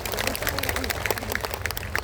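Crowd applause from a gathering of over 30,000 people in the courtyard of Masjid Raya An-Nur in Pekanbaru: a steady, noisy clatter of many hands carries on for two seconds, mixed with faint voices.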